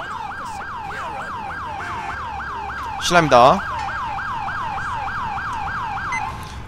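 A police siren in the video game GTA IV wails in rapid repeating cycles, loud and steady, briefly switching to a faster yelp midway while a voice speaks once.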